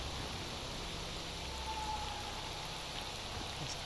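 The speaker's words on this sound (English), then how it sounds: "It's so hard to see in the rain." Steady, dense rain hisses evenly throughout in the S.T.A.L.K.E.R. Anomaly video game, a constant soft wash of droplets with no talking.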